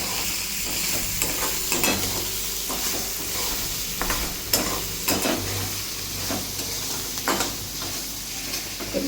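Cowpea beans roasting in a pan give a steady close sizzle, broken by repeated scraping stirs of a spoon against the metal.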